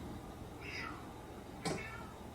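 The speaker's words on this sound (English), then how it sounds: "I think your cat wants to come in." A cat meows twice near a quiet room, first a soft drawn-out mew, then a sharper, louder cry a second later.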